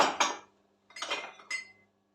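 Dishes and cutlery clink and clatter in three short bursts close by while being hand-washed, with brief silent gaps between them.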